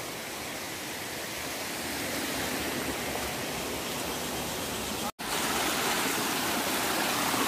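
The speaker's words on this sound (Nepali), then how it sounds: "यो पहाड त्यो चेपचाप माथि माथि फरेस्टको चेपचापबाट उम्रेको पानीहरू एकट्ठा भएर आएको होला नि सर।" Mountain stream in a forested hillside gorge, fed by water seeping down from the slopes, giving a steady, dense rushing flow close by and unbroken apart from one momentary dropout.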